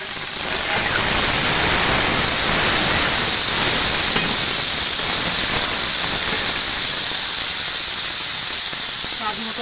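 Ridge gourd dropped into hot oil, a loud, broad, even hiss of sizzling that holds steady throughout, close up.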